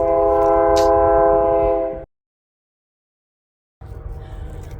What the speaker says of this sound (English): And now we got another train coming.